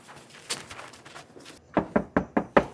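Fist knocking on a house door, a few scattered raps followed by a loud, rapid series of five or six heavy knocks, close and insistent, no speech over them.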